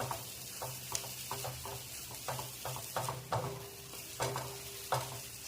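Vegetable masala for masala pav being stirred and sautéed in oil in a pan, a soft steady sizzle under repeated scraping and clinking spatula strokes against the metal.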